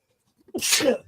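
One sharp human sneeze, close and fairly quiet, bursts out alone after a short silence during a casual sports-picks chat show.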